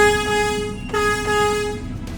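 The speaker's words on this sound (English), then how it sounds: "probably liked that air horn a little bit too much" A loud, harmonic air horn blasts in two long tones with a brief break between, close and piercing.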